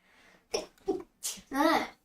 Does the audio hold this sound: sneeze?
yes